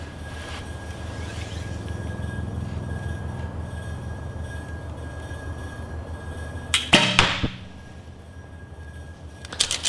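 Arrows shot from a recurve bow strike a target, heard as a sharp cluster of impacts late in the clip above a steady background hum, with another faint hit at the very end.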